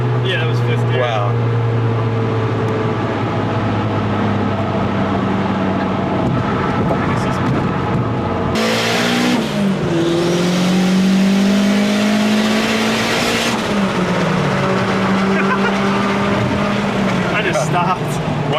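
Turbocharged car accelerating hard with wheels spinning, a loud engine note climbing in pitch through the gears with a sudden shift partway, recorded close inside or near the car.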